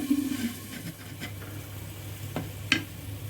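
Chopped bottle gourd cooking with black chickpeas sizzles in a pan, a low steady fry broken by a few sharp clinks and scrapes as a spoon stirs it, close and fairly quiet.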